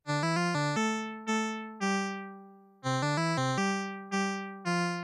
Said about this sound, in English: The waves are mixed and then sent through a low pass filter that is modulated by the note initiation gate.